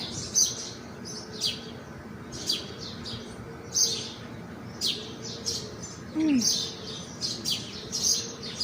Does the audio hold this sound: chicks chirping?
yes